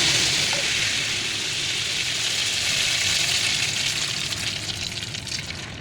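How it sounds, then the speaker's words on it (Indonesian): Egg rolls sizzle steadily in hot frying oil, a close, continuous crackling hiss that stays even before easing slightly toward the end. "kemudian kita lanjut goreng lagi"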